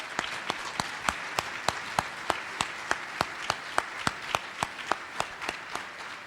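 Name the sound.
audience applause for panelists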